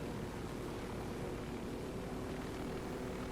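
A helicopter flying in Ghost Recon Wildlands, a steady, even engine and rotor drone that stays at one constant level throughout, heard alone without talk.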